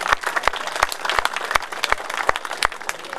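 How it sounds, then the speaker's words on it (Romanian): Hearty applause from the audience at a rural commune festival in Prisăcani, Romania, with dense steady clapping and a few sharp individual claps standing out throughout. "Aplauze și mulțumim!"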